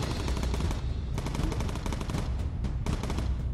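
Rapid bursts of gunfire from the aircraft guns in the video game Bomber Crew, firing in repeated automatic volleys with short gaps between them over a constant low engine drone.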